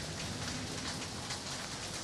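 Steady rain falls on a city street during an outdoor photo event, making a dense, continuous hiss with no pauses and no voices.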